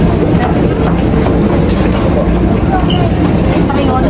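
Steady low rumble and rattling hum inside a moving train in Taipei, Taiwan, continuous throughout with people talking faintly in the carriage.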